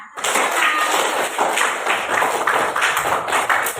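A class of schoolchildren applauds after group presentations, dense steady clapping from a roomful of hands, close and continuous.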